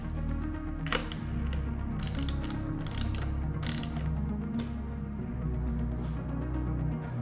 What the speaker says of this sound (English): you'll remove the 4 lock nuts on the left underside of the deck with your 8mm deep